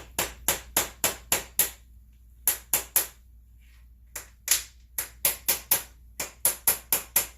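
A small hammer taps a seal into a McCulloch Pro Mac 850 chainsaw: about twenty sharp, close metallic taps in quick bursts of four to six, separated by short pauses.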